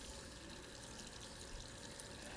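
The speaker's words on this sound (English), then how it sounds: "Now I'm in the kitchen with the faucet running" Kitchen faucet running into a sink, a faint steady hiss of flowing water with a soft hum in the background from a microwave heating something.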